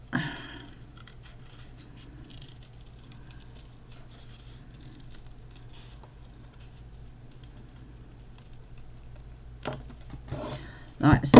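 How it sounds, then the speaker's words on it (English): Scissors cut around a paper tag template with soft, irregular snips and rustles close by, ending in a louder burst of paper handling. "cut around your template."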